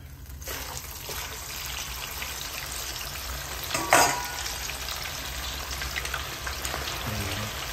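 A second batch of chicken wings fries in hot oil for Filipino patis-marinated fried wings, with a steady crackling sizzle throughout and a brief louder spattering burst midway, close and continuous with no talk.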